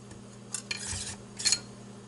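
A Cuisinart steak knife scraping and clinking against a wooden surface in a kitchen, two short bright rasps about a second apart, close and fairly quiet, with no voice.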